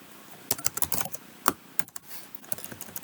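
Quick keystrokes clatter on a computer keyboard as a spreadsheet formula is entered, a few close, crisp bursts of taps with short pauses between them and no talking.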